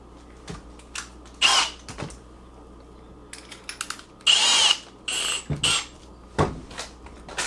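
Several short bursts of a power drill whirring as it drills holes with a 3/8 inch bit for lights in a DIY battery box, each lasting about a second, separated by quiet pauses and small clicks and knocks.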